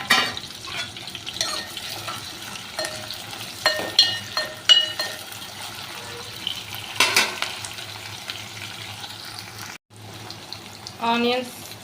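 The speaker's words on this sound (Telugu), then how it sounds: "ఆనియన్స్ ఫ్రై అవుతాయి" Onions frying in a pan for brinjal curry: a close, continuous sizzle broken by stirring scrapes and a few clinks, with a short gap near the end.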